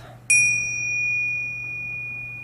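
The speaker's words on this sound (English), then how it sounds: "And we'll start in here with the chimes," A single chime is struck once in a quiet room during a healing meditation session, giving a bright, clear ring that sustains and slowly fades over two seconds.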